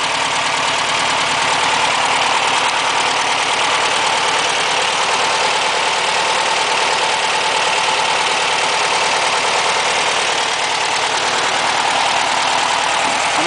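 A Volkswagen Beetle engine, freshly valve-adjusted, idles steadily after starting, a continuous close, loud mechanical chatter with an even rhythm and no voices.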